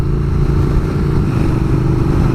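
A Triumph Speed Twin or Royal Enfield Interceptor 650 motorcycle cruises lazily in third gear at 2,500 revs, about 30 mph, with a steady close-up throbbing engine note and no talk.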